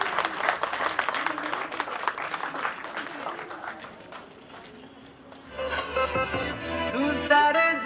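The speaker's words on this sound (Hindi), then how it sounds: "एक बार जोरदार तालियां हो जाए सरिता गोसाई जी के लिए।" Audience at a Women's Day celebration claps in a dense wash of applause. It fades after a few seconds and music takes over near the end.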